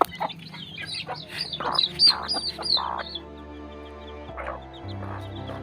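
Free-range native chickens cluck and chirp at close range in a series of short, uneven calls, followed by a quieter stretch with a low steady hum.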